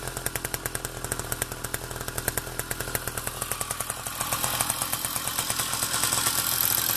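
A Riga 13 moped engine runs steadily with a plain tube muffler and a mesh fitted, giving a rapid, buzzing two-stroke putter up close that grows slightly louder and rougher toward the end.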